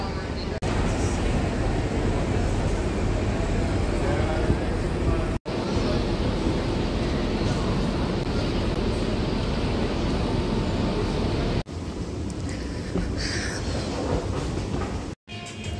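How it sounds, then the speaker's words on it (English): Steady rumble and clatter of a double-decker train riding through Copenhagen, continuous and fairly loud from inside the carriage, with brief dropouts and a voice speaking over it. "I absolutely love these double trains, like, they're so cool."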